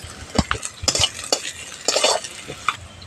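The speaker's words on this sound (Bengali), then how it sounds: "পেঁয়াজ কুচিটা দিয়ে দিচ্ছি পেঁয়াজটা হালকা করে একটু ভেজে নেব" Chopped onion fries in a pan with a green chilli, the scraping and clinking of a spoon stirring in uneven bursts over a low, quiet sizzle; nobody speaks.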